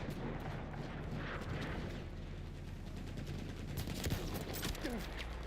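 Battlefield 1 gunfire crackles continuously, with dense overlapping bursts of rifle and machine-gun shots and booming explosions layered into a steady, chaotic battle din.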